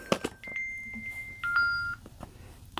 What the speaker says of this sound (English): My alarm to wake up since I got up early.